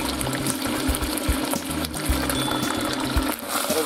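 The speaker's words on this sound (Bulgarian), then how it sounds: "Пускам месото в загрятото олио." Meat sizzles in heated oil in a pan, a dense close crackle with rhythmic low knocks throughout.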